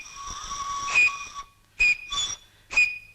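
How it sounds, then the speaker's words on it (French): A boatswain's whistle gives one long shrill trill and then three short sharp blasts, loud and close, each separated by a brief silence. "Tiens, un sifflet de quartier-maître."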